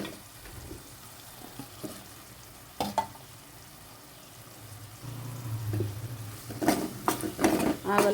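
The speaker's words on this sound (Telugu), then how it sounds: "ఇప్పుడైతే మనము ఉల్లిపాయ వేగుతూ ఉంది కదా, అల్లం పేస్ట్ కూడా వేసుకున్నాను." Onion, ginger paste and potatoes frying in a pan, giving a soft hiss with occasional spatula clinks and scrapes that swells into a louder, busier sizzle near the end, heard up close with a voice talking faintly in the background.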